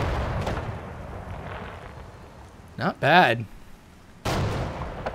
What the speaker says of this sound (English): Then you got the secondary explosions.